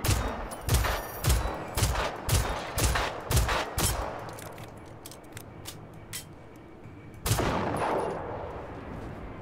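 Rapid game gunfire in a robot apocalypse shooter: a rhythmic string of close, sharp shots for about four seconds, then a quieter pause and one more loud burst near the end.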